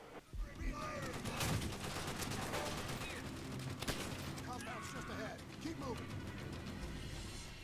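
Scattered gunshots and bursts of automatic fire in Call of Duty: World at War multiplayer, moderately distant, mixed with weapon handling clicks and players talking over the action.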